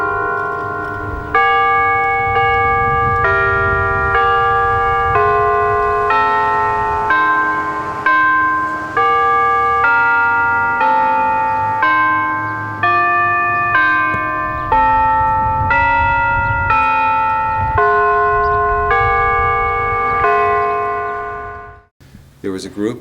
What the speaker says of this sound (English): the glorious sounds of yesterday echo in the bells of the Old South Church